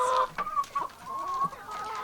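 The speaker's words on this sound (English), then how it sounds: "you guys ignore my little entourage of chickens here" Chickens cluck nearby in short, rising bursts, several calls overlapping without any talk.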